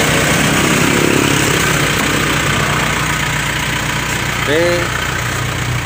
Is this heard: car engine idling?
yes